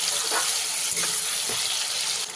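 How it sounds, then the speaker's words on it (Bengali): Chopped large tomato with salt frying in hot oil in a pan, a steady close broadband sizzle with a few soft stirring scrapes, no voices. "এবারে খুব ভালো করে ভেজে নিতে হবে"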